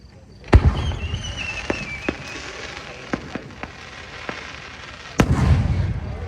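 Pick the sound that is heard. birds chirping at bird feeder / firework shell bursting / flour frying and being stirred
firework shell bursting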